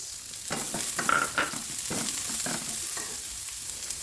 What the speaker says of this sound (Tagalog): Igisa natin ang ating sibuyas at bawang.